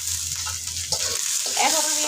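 Carrots fry in a pan with a steady sizzle, joined by a brief stirring scrape midway; a faint voice murmurs underneath.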